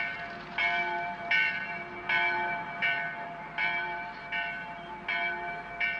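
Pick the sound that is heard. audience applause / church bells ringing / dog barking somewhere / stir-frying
church bells ringing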